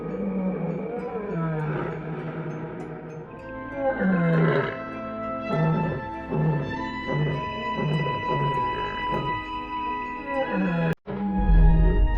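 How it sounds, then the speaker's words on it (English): Lions roaring at night on the savannah: a series of deep, rhythmic grunting roars repeating loudly over about twelve seconds, close and dominant with no talk. "the night air is filled with roars that chill the blood of all the savannah's inhabitants"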